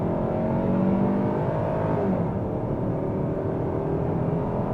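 A 2024 Hyundai Sonata SEL with a naturally aspirated four-cylinder accelerates on a highway in normal mode. The cabin carries a steady, moderately loud engine drone with road and wind roar underneath, and the tone shifts gradually as speed builds.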